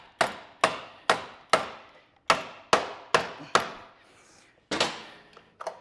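Repeated sharp knocks from the back of a hammer pushing in the choke on a Craftsman snow thrower, about ten close, loud strikes at an irregular rhythm, each with a quick decaying ring and short pauses between groups.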